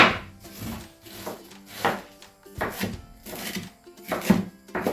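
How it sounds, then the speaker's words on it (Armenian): Cabbage being chopped with a knife on a board for cabbage cutlets, a steady series of close, crisp knife strikes in an irregular rhythm with no talking. "Այսպես ունեմ, որ երևա ինչպես եմ մանրացնում։"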